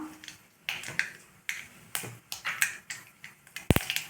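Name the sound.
mustard seeds spluttering in hot oil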